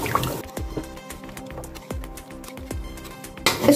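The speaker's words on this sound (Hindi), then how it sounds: "अब हम इसमें डालेंगे यखनी। यखनी डालकर इसको अच्छी तरह मिक्स करेंगे।" Bone broth (yakhni) is poured into fried masala in a pan for a bone marrow curry, giving close, soft liquid glugs and drips with a splash at the end.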